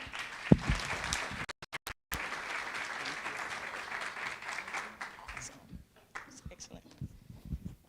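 Sustained applause from a graduation ceremony audience, a steady wash of clapping that drops out briefly in places and then fades into scattered claps and murmuring voices.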